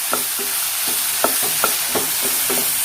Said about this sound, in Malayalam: ഒന്നുകൂടി നന്നായിട്ട് വഴറ്റിയെടുക്കാം. തക്കാളിയൊക്കെ നല്ല വഴണ്ടി വരണം.